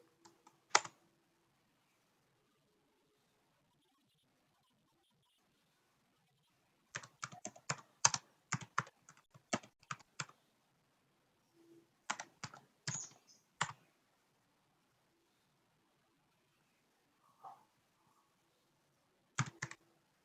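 Typing commands on a computer keyboard, heard as scattered clusters of crisp key clicks in a quiet room, with a few isolated taps and long silent gaps between bursts.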